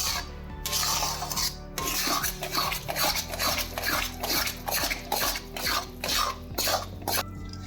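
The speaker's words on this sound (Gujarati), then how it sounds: "આમ હલાવતા રહેવાનું છે એટલે બધી જ રીતે ચાસણી મિક્સ થઈ જાય." A spoon stirs thick adadiya sweet mixture with syrup in a metal pan, repeated scraping and clinking strokes in a steady rhythm, close and moderately loud.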